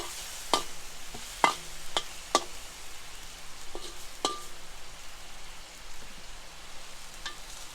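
Flat rice noodles with eggs stir-fried in a wok for char kuey teow: a low, steady sizzle broken by several sharp metallic spatula clacks and scrapes, near but fairly quiet.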